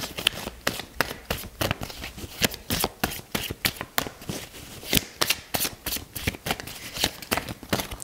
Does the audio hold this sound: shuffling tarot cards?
yes